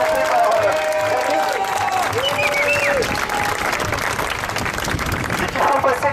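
A crowd applauds continuously, dense clapping filling the room, with a few voices and whistles rising above it.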